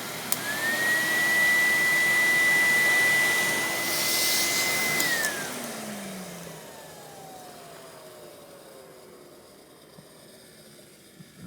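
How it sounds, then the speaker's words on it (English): A Filter Queen D31x canister vacuum motor roars at high speed with a bright whine, then spins down. The whir falls in pitch and fades to a quiet rumble. "Now back to high speed."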